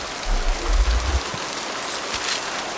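Rain falls steadily across a level in Mass Effect 2, a dense even hiss with a low rumble building in the first second, and no voices over it.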